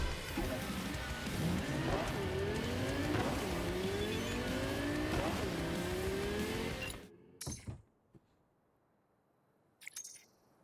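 A car races in the Cyberpunk 2077 video game with a loud engine revving through repeated gear shifts for about seven seconds. It then cuts off, leaving a few brief clunks and near silence.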